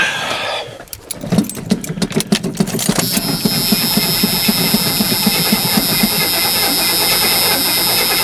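An old, neglected truck with a low battery cranks with a rapid rhythmic churning, then catches and settles into a steady, loud idle with a high whine.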